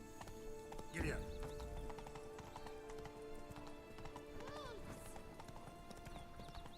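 Geralt's horse Roach galloping in The Witcher 3: Wild Hunt, fast rhythmic hoofbeats throughout with a snort and a brief whinny, while someone talks over them.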